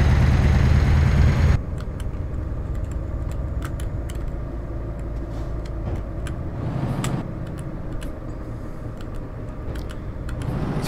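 Truck engine in Euro Truck Simulator 2 drones steadily at low pitch, loud at first and then dropping to a lower, even rumble for the rest, with faint clicks scattered over it.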